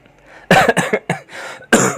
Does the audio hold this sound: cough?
yes